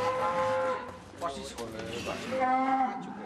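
A cow of about 1.2 tons, raised as a sacrificial animal by a cattle farmer, lowing in close, drawn-out moos, with a voice speaking alongside.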